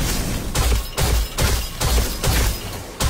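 Rapid bursts of weapon fire in Destiny 2 during a boss encounter, coming in about six evenly spaced loud volleys of several shots each, with brief pauses between them and no talk.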